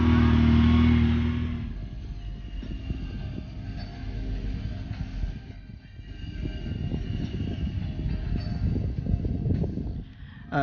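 An ATV quad bike engine drives over the sand dunes at Mui Ne, Vietnam. A loud roar at the start settles into a steady, rumbling drone that rises and falls.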